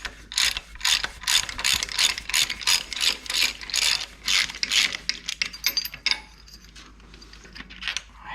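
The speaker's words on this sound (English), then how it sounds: "Take our socket and we just crank on the nut." A socket ratchet cranks down the nut on a Dodge Cummins diesel injector, giving rapid runs of sharp metallic clicks in bursts that stop after about six seconds and leave quiet shop background.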